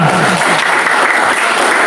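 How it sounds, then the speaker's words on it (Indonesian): A classroom of students applauds a student discussion group after its presentation, steady dense clapping filling the whole stretch, loud and close with no pauses. "beri tepuk tangan untuk kelompok 2"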